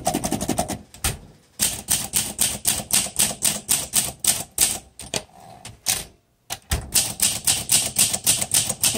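Typing on a 1952 Olympia SM3 manual typewriter with a small 12 CPI typeface, a loud close run of crisp, evenly paced key strikes with brief pauses and a carriage movement near the end.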